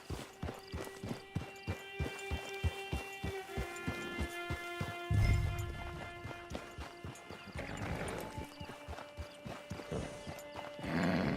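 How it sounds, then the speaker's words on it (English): A horse in the Red Dead Online video game trots with steady clip-clop hoofbeats, then neighs and whinnies before the hooves continue, moderately loud and alone. "Get your horse."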